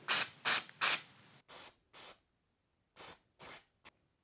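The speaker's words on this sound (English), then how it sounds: "now time for a bit of disc brake cleaner to clean off any excess fluid" Disc brake cleaner sprays from an aerosol can onto a Hayes hydraulic bicycle disc brake in short hissing bursts: three loud close blasts, then four softer ones separated by pauses, and a final very brief puff.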